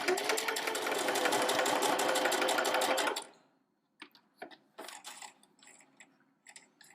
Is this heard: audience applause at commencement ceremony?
no